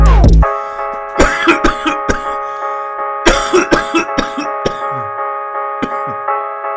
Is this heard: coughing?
yes